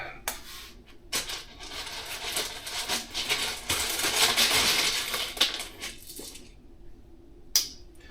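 Rocks are dropped into a homemade PVC water filter, a series of close clattering knocks and rattles with a dense rush of tumbling stones in the middle and a few sharp single clicks near the end.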